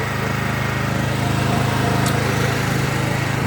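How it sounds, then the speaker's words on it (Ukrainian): An ITC Power GG30Xi petrol generator runs steadily at close range, its engine drone loud and unbroken with a constant low hum throughout and no talk. "Хочу вам розказати про ось такий генератор."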